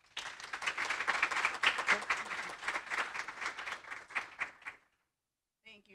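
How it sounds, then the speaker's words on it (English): Indoor audience at a recycling talk applauding a speaker, a dense burst of many hands clapping that swells and then cuts off, followed by a brief voice. "Please give a round of applause to Christina."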